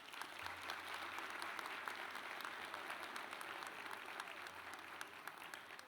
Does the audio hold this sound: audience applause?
yes